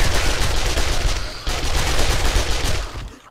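Sustained SMG fire in the zombie survival game 7 Days to Die, rapid loud bursts running almost continuously, with a brief gap midway before the shooting resumes and cuts off at the end.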